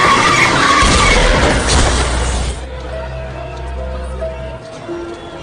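A car in an Indian film skids loudly with a harsh, sustained screech, then the roar cuts off into a lower rumble and quieter ambient noise.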